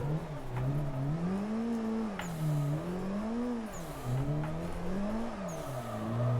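A drift car on a beginner course revs hard while its rear tires squeal, the engine note swelling and dipping in a repeating wavy pattern, loud and close throughout with no voices.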